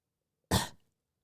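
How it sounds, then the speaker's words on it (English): A single short, sharp throat clearing, close and fairly quiet, alone against silence. "I think I need to pause for the call and clear my throat."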